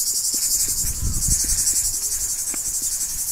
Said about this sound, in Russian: Цикада где-то на акации сверчит, стрекочет